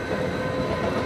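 Steady rumbling roar of the Jungfraujoch cog railway train in Switzerland running, a continuous dense mechanical drone with no voices.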